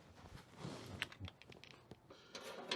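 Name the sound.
typing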